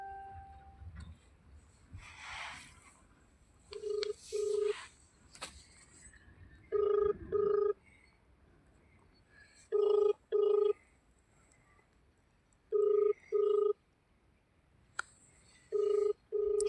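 A phone rings unanswered, its electronic double-beep tones repeating in evenly spaced pairs across the stretch, fairly clear over a faint background with some soft murmuring early on.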